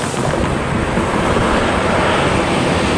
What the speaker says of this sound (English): get a little clip of a nice JAL Dreamliner, YouTube, taking off here